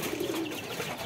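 Domestic pigeons cooing close by, a soft low murmuring coo running steadily through a short moment with no talk.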